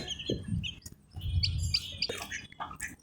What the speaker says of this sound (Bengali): এখানে টোটাল আঠারোটা মুরগি বাচ্চা রয়েছে